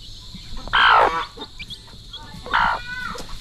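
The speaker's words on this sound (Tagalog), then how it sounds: "Ayan yung mga sisiw." Chicks calling from close by, with two louder, harsh squawking bursts and several faint, brief high peeps scattered between them over a low background hum.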